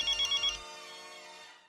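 A telephone rings indoors with a few quick electronic trills, then the tone rings out and fades, ending in a sharp click; near and fairly soft, no speech.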